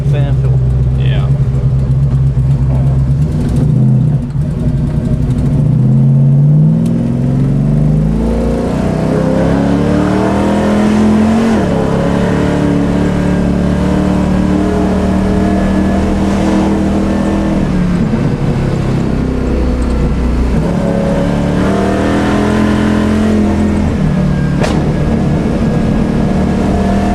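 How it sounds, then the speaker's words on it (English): A 610-horsepower 1970 Chevelle V8 with an upgraded intake and camshaft revs loudly and close, its deep rumble rising and falling through repeated throttle blips, with a voice talking faintly over it. "Classic hot rod sound."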